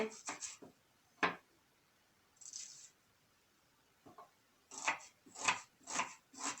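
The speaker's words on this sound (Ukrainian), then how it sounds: "А тим часом ріжемо дрібненько цибульку." Quiet, close knife taps on a cutting board as an onion is finely chopped, in quick irregular bursts, pausing then resuming with several rapid chops.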